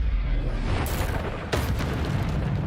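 Bombarda spell explosions in Hogwarts Legacy: loud booming blasts over a constant roar, with two sharp bursts standing out about a second apart.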